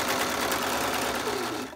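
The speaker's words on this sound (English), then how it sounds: "Everything else remains the same, but I'm just going ahead and serging that." A serger running steadily as it sews and trims a fabric seam allowance on a quilting project, a continuous close mechanical whir that holds for under two seconds with no talk.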